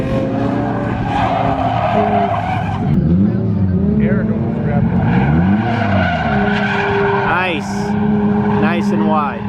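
A car drifting through a transition, engine revving up and down in sweeping waves with tire squeal, continuous and loud, while people talk over it.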